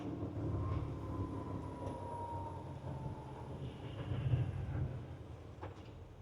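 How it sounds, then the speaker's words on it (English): A GO commuter train bound for Union Station in Toronto rolls past with a moderate, steady rumble and a faint high whine, blending with downtown traffic noise and no voices. "Go train to Union Station"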